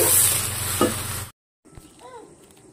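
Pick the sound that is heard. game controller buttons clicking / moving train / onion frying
onion frying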